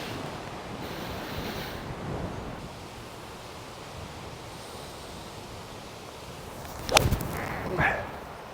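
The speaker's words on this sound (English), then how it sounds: "into wind, into a very strong drizzly rain" Strong wind buffets the microphone on an exposed golf course in drizzly rain, a steady rushing roar with a sharp impact near the end followed by a brief swell of gusting noise.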